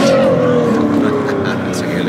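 Ferrari 812 Superfast with a Novitec exhaust, driven on the road: a loud, close engine note sliding gradually downward in pitch as revs ease, steady and continuous from inside the car.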